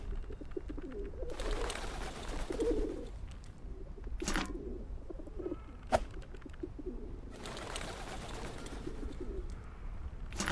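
Pigeons coo in the Whateverland video game, soft throaty calls rising in two longer bursts over a low ambient bed, with a few sharp clicks between.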